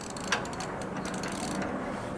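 Engine crankshaft turned over by hand on an engine block being ball honed at home, giving faint mechanical clicks and a soft ratcheting rattle at close range over a quiet background.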